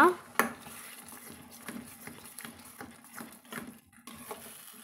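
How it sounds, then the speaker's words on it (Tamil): Thick homemade tomato pickle is stirred in a pan over high heat, with a spoon scraping and knocking against the metal in an irregular rhythm, faint bubbling beneath, and a sharp clank at the start. "இப்போ கொஞ்சம் தீயை ஹையில் வச்சு நம்ம ஒரு நிமிஷம் வந்து கலந்து விட்டுக்கலாங்க நல்லா"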